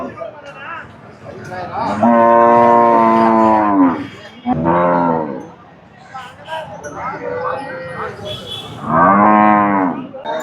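A Sindhi Jersey cow at the Poigai cattle market in Vellore gives three loud, drawn-out moos close by, separated by short pauses, with faint crowd voices in the background.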